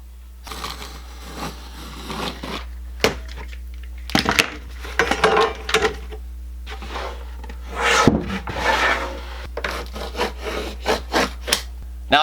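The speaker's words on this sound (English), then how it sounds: "I'm going to try and cut through at least the first 2 or 3 layers on each side before I try and snap it" Repeated scraping and cutting strokes on thick 3/4 inch plywood worked without a saw on a workbench edge, irregular bursts of rasping friction with brief knocks, close and alone over a steady low hum.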